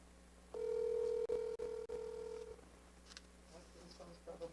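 During a town council special meeting, a phone placed on speaker for a call gives a loud, steady tone for about two seconds, broken by brief clicks, then fades to quiet room sound with faint murmurs.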